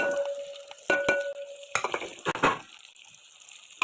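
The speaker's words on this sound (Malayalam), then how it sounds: "കടുക് പൊട്ടിക്കഴിഞ്ഞപ്പോൾ നമ്മൾ നേരത്തെ മാറ്റി വെച്ചേക്കുന്ന സവാളയും ഇതെല്ലാം കൂടെ ഇതിലേക്ക് ഇടാണ്" Onions with mustard seeds fry in coconut oil, giving a close crackling sizzle with a few sharp scrapes and clatters of a spoon in the pan, fading toward a quieter hiss.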